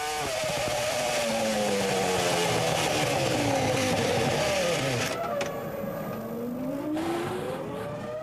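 A Formula One engine screams loudly at high revs at the 2004 United States Grand Prix, then the pitch sags and falters as the motor blows up, leaving a rougher, weaker whine.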